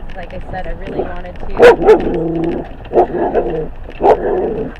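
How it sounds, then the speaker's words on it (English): A dog barks excitedly at cows on a farm, several sharp barks and yips spaced irregularly, close by, while a person talks over them. "That's really barking at a cow."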